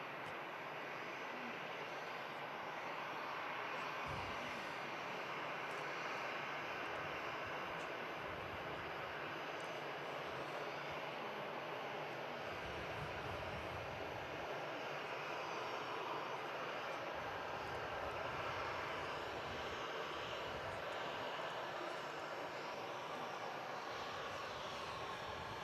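A Jet2 Boeing 757 at Manchester Airport gives a steady, moderately loud roar of aircraft engines that holds evenly throughout, with no voices.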